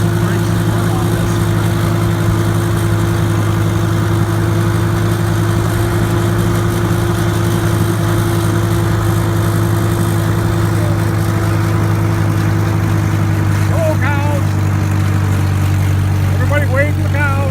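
Farmall H tractor engine running steadily during a farm ride, a loud, constant low drone with a pronounced hum, continuous throughout, with someone talking over it.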